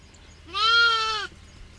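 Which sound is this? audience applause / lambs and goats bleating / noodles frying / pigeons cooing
lambs and goats bleating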